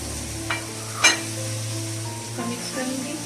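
Cut potatoes dropped into a hot pan of softened tomatoes for chicken biryani, giving a few brief clattering hits over a steady close sizzle of frying, with no talk.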